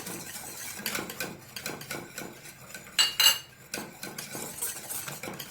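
A utensil scraping and stirring white sauce with soy sauce in a pan, soft rhythmic scrapes with a couple of sharper metallic clinks, close and quiet.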